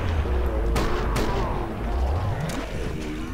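Heavy weapon fire in the video game Killing Floor booms in a few loud, close shots over a dense rumbling game backdrop.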